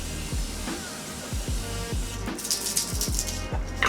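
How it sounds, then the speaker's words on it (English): Morphe setting mist is sprayed onto a face: a few soft knocks and clicks from the bottle come first, then several quick, airy hissing spritzes close by. "So using my Morphe setting mist, which smells amazing."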